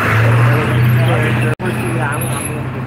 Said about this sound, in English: But this is traffic.